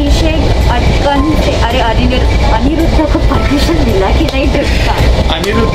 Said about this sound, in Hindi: मैं अभी फिलहाल थोड़े से मैं ट्रैवल कर रहा हूँ कोयना एक्सप्रेस से, और मेरे ट्रेन को WDP 40 ट्विंस लग रहे हैं।